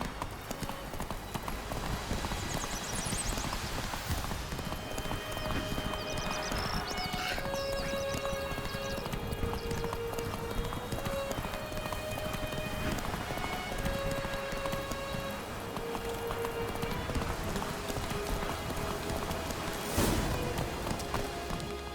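Hooves of Geralt's horse Roach clip-clopping in The Witcher 3: Wild Hunt, a steady trotting rhythm under ambient game sounds and faint rain, with a brief spoken line and tonal music in the background.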